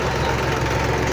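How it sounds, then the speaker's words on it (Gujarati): A tractor engine passing on a farm track, a steady, loud, close diesel rumble and chug throughout with no talking. "જો ટ્રેક્ટર જાય"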